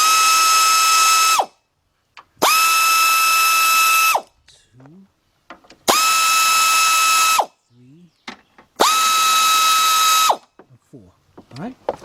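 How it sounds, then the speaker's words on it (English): Air ratchet on a 3/8-drive 7mm deep socket spinning out bolts during a Chrysler PT Cruiser timing belt and radiator job, four loud whirring bursts of a few seconds each with short pauses and faint clinks between. "I'm using a 7mm deep 3/8 drive with my air ratchet."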